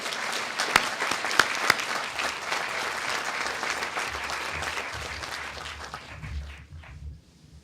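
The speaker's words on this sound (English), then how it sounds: "Let's give a big round of applause to the PPM graduates." Graduation audience at the Keck Graduate Institute 2011 commencement applauding PPM graduates: sustained, dense clapping from a large crowd with a few sharp louder claps early on, tapering off toward the end.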